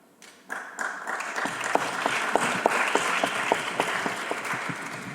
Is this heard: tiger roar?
no